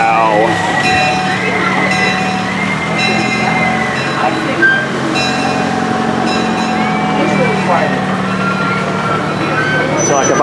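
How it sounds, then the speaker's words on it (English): The Zephyr Railroad amusement park train ride at Dorney Park rumbles and squeals steadily along its track, with screeching metallic tones and a busy, continuous background. "The Zephyr Railroad is another classic ride."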